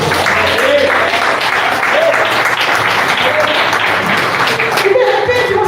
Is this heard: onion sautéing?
no